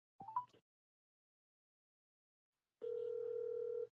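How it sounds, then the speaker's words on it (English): Telephone call ringback: a short burst of dialing tones, a long silence, then a single steady ringing tone on the line, faint and clear with no voices. "It's ringing now."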